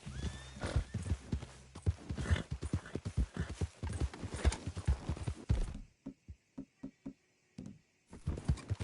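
Horse hooves clip-clop in a quick, steady rhythm in Red Dead Redemption 2, close and clear, then slow to a few spaced steps, with a whinny early on.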